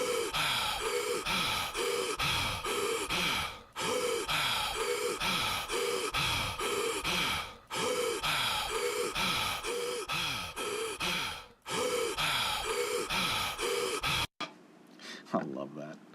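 Fast rhythmic breathing in a vocal recording, heavily compressed and dense, short repeated breaths in a steady loop with brief pauses, loud and up front before cutting to a quieter passage at the end.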